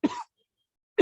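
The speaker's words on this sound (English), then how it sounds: "Oh, look, I'm going to cough again." A single short cough, then silence, with the start of another cough cutting in at the very end.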